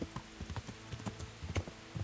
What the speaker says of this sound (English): you can see how much slower this horse is than Warhorse Genda.